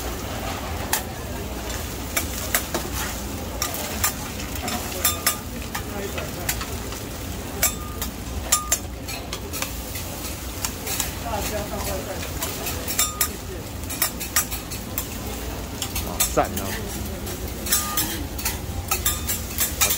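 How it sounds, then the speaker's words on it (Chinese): Radish cake and eggs fry on a hot griddle at a busy roast-meat eatery, with steady sizzling, scraping and clinks of utensils while people talk nearby. "这个煎萝卜糕跟煎蛋是很精简的镜头。"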